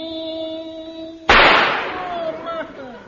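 Gunshot sound effect in a vintage radio comedy, a single sharp bang that cuts off an organ-like tone, followed by a decaying echo and voices afterward.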